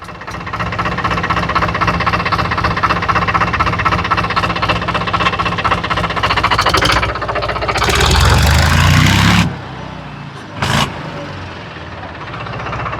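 A small 25 hp four-wheel-drive tractor engine runs with a steady knocking idle in a shop, then revs up louder for a couple of seconds before dropping back, with a brief thump afterwards.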